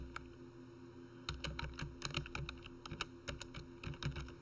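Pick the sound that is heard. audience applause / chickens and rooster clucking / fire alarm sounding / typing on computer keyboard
typing on computer keyboard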